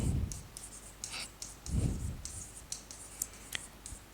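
Chalk or marker strokes on a board during a physics lesson, short scratchy bursts in an irregular rhythm, close and fairly quiet with no talk.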